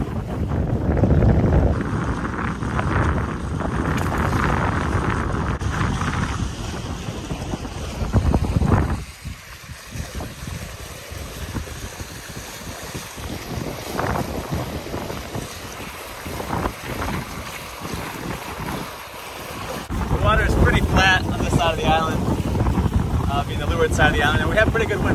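Strong wind of about 20 knots while sailing a Hobie boat off the Bahamas, gusty microphone buffeting and rushing water, loud at first, easing through a calmer middle stretch, then surging back.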